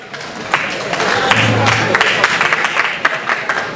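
Guests applauding at a marriage blessing reception, a loud burst of clapping that swells and continues with scattered individual claps and a brief low hum partway through.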